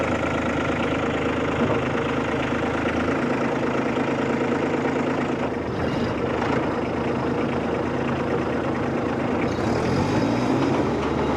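A tractor engine idles loudly and steadily before mowing a field, a continuous close rumble with a slight shift in tone partway through and no talking.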